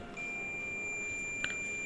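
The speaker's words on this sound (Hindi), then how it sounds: "तो आप देख रहे हैं यहाँ पर अलार्म का साउंड आ रहा है।" A fully automatic washing machine sounds a brief electronic alarm beep during a pressure switch test, a short high chirp over a steady faint hum and a thin continuous tone.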